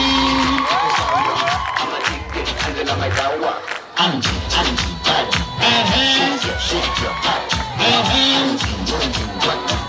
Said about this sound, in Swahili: Wapi makofi ya Madam Angie?